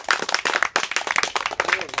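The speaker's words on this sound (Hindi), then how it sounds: "ताली बजाओ" A group of village children claps in quick, uneven bursts of handclaps during a community outreach session, with voices mixed in among the claps.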